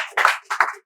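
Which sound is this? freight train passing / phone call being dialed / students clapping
students clapping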